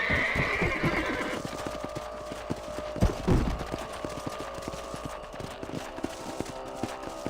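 Horses in the Red Dead Redemption video game: a loud whinny at the start, then steady clip-clop of hooves on a ranch property, with a sharp thump partway through.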